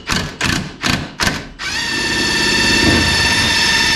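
An impact gun undoing a bolt on a Mazda MX5 NB coilover, hammering in four loud, rapid bursts before settling into a sustained, high-pitched whirring spin, close by.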